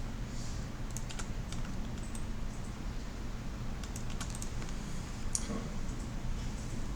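Computer keyboard being typed on, with the Shift key pressed, giving quiet, irregular clicks and taps close by over faint background hiss, without speech.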